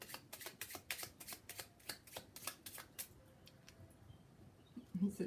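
A deck of tarot cards is shuffled by hand in a quick run of crisp, rhythmic riffling flicks that then thin out into softer, sparse taps, close and quiet.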